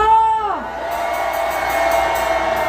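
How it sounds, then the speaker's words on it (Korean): A crowd at a street political rally lets out sustained cheers and whoops; a single loud shouted voice falls away at the start, then many voices hold long cheering tones together. "이 청년에게 뜨거운 함성!"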